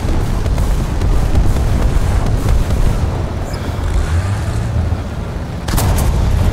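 Tank gun blasts in a war video game, heavy booming shots over a constant rumbling, windy battlefield din, with a sharp burst near the end.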